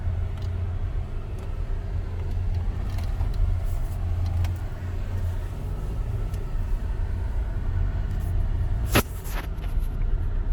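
An MG Gloster SUV driving over rough off-road terrain, a low steady engine rumble heard from inside the vehicle, with one brief sharp knock near the end.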